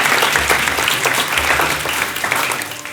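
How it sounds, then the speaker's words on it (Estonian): An audience at a comedy dating show in Estonia claps steadily throughout, a dense, lively burst of applause from a crowd that tapers off slightly at the end. "Teeme aplausi."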